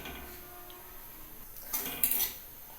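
Semolina (suji) dry-frying in a pan, stirred with a utensil; a low steady background with a few close metallic scrapes and clatters near the end.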